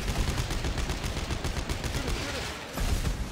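Gunfire in Dead Space 3, a rapid stream of loud, close shots in quick succession with a brief pause before another burst, and voices faintly underneath.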